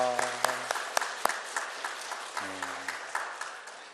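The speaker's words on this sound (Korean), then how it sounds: "우리 축복하며 환영의 박수 하겠습니다" A small church congregation claps in welcome during a Sunday service, moderately close, with sparse irregular claps fading gradually as a voice briefly talks over them.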